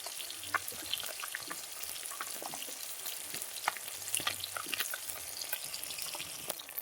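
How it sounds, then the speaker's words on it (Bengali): Small rohu fish fry in hot oil in a pan, giving a steady close crackling sizzle with scattered sharp pops throughout and no voices. "বেশি মাছ কড়া করে আমি ভাজবো না।"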